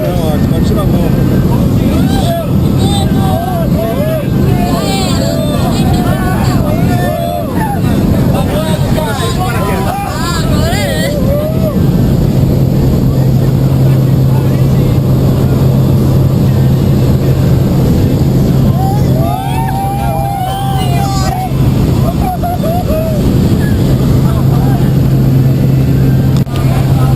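Steady engine drone fills a skydiving plane cabin during the climb before a tandem jump, a constant hum running under nervous chatter and talk from passengers throughout.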